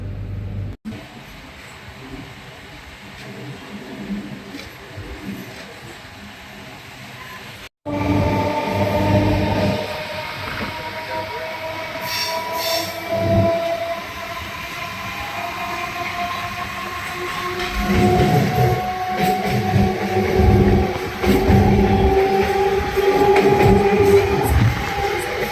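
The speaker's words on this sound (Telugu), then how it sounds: "ట్రైన్ నెంబర్ వచ్చేసి 47254 లింగంపల్లి ఘట్కేసర్ MMTS" Lingampalli–Ghatkesar MMTS suburban train number 47254 runs along the line, its steady carriage rumble building louder partway through with clattering wheels and a faint horn-like tone in the distance.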